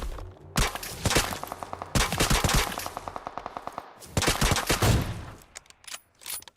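Loud bursts of automatic gunfire in PUBG Mobile in rapid rhythmic strings, separated by short pauses, with echoing cracks and no voices.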